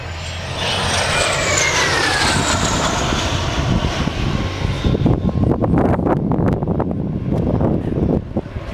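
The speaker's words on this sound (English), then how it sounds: "It's ridiculous to think of a jet engine, a jet aircraft, and you're thinking vintage" A vintage 1950s-era jet aircraft roars past, its high whine sliding downward as it goes, over heavy wind buffeting, then leaving a loud, rough engine rumble.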